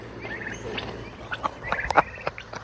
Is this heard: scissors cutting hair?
no